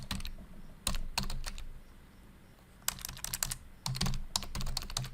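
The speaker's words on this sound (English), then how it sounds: "we're simply going to type in our domain" A domain name is typed on a computer keyboard in quick bursts of crisp key clicks, separated by short pauses, close and clear with no talking.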